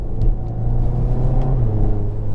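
A 2021 Mk8 VW Golf GTI with a front differential pulls out of a corner, its engine droning loud and close with a rising tone under a steady road rumble, with no voices.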